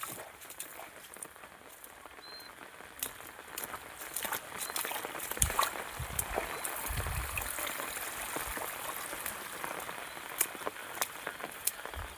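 Heavy unseasonal rain falls over an onion field outdoors as a dense, continuous patter. It grows slightly stronger toward the middle, with a few low thuds, and no clear speech.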